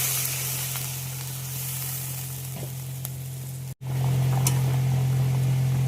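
Water goes into a pan of spiced potatoes frying in their masala. A loud, close, continuous sizzle breaks off for a moment and then comes back as a stronger, fuller hiss, with no speech.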